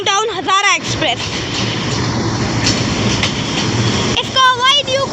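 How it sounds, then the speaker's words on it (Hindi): Hazara Express passenger train with new coaches approaching Golra Sharif Junction, a loud steady rumble and clatter of wheels on rails held close for several seconds, with a high whistle-like squeal at the start and end. "हवेलिया से कराची जाने वाली 12 डाउन हज़ारा एक्सप्रेस PH 28306 के साथ गोलवा शरीफ जंक्शन पर अप्रोच कर रही है।"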